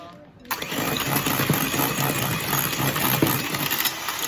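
An electric mixer whisks cream for profiteroles, a steady motor whir running continuously after a brief quiet start, close and fairly loud with faint rattling.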